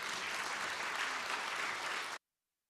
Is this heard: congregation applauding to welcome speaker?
yes